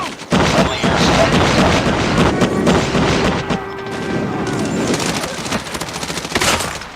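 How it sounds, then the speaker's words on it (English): Rapid gunfire and booming explosions from a friendly airstrike in a first-person shooter video game, loud and dense throughout with volleys and thuds layered together. "Friendly airstrike"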